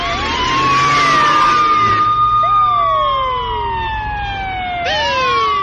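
Ambulance siren wailing loudly and close, a long rising-and-falling electronic tone that sweeps up again near the end, with no voices over it.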